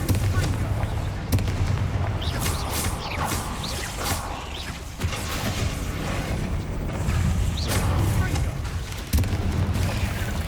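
Confringo fire spells burst repeatedly in Hogwarts Legacy, loud booming explosions layered over dense, continuous rumbling battle noise with sharp hits at intervals.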